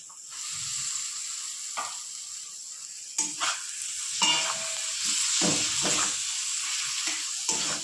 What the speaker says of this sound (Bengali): দুটো মাঝারি সাইজে টমেটো আমি কেটে রেখেছিলাম কুচিয়ে, সেটা দিয়ে দেবো